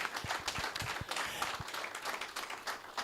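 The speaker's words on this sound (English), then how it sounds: "Can you please give a big round of applause for our panelists?" An audience at a TVET college research partnership launch applauds the panelists with a scattered, fairly faint round of clapping. A few individual claps stand out sharply.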